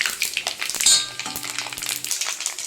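A spoon stirs mustard seeds and fenugreek in ghee in a pan for Punjabi methi kadhi, with close sizzling frying, a bright clink of metal on the pan and a low steady hum beneath.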